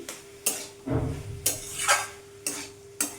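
Banana flower fries in a pan with scraping stirs and sizzle, several distinct spatula strokes against the pan at uneven intervals over a soft frying hiss.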